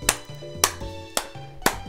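Four deliberate hand claps ring out at a slow, steady pace, each crisp and close, with quiet game music tones running underneath.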